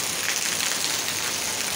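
Heavy rain pouring down outside, a dense, steady hiss of drops on surfaces filling the whole stretch without pause.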